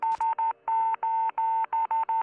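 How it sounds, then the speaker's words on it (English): A 1960 SOS Morse code distress signal from a cosmonaut orbiting Earth: nine clear steady tone beeps, three short, three long, then three short, loud and alone with no voices. "the brothers intercepted an SOS Morse code distress signal from a cosmonaut orbiting"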